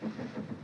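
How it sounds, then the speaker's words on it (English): A train approaching a small-town station, heard as a faint, steady low rumble with a soft rhythmic pulse, alone and without talk. "Train's coming, Mom."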